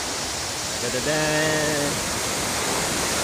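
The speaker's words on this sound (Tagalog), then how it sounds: "At nandito yung Bugsukan Falls sa likod ko." Bugsukan Falls in barangay Misibis, Tiwi, Albay, a waterfall near the sea, pours out a steady, loud broadband rush that runs unbroken throughout, with a person speaking briefly over it partway through.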